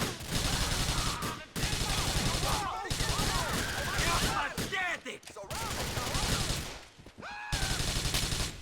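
Heavy gunfire in the video game GTA 4 rattles on almost without pause in loud, rapid automatic bursts, with a brief break in between and voices faintly mixed in.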